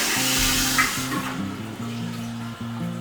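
A toilet in a Bali cliffside hotel suite flushes in a loud rush of water that drains away and fades within about a second. Steady tonal music or a hum continues underneath.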